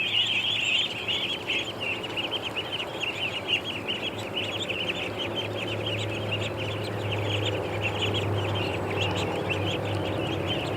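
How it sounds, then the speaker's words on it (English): A group of ducks in a yard keeps up a continuous, close chatter of peeps and quacks, with a low steady hum running beneath for much of the time. "Come on out, ducks."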